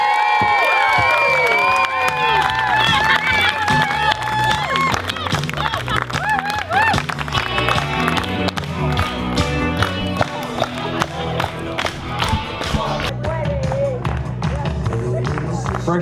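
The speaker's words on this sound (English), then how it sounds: "can I get the biggest cheer of the night before I hand over the microphone" Loud cheering and shouting from wedding guests at a reception, a sustained roar of voices with whoops and clapping over music, close and continuous.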